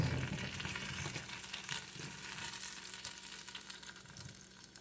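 Potato pieces frying with garlic in olive oil and butter on a stovetop, a soft, continuous sizzle with light crackle and an occasional stir, close and steady.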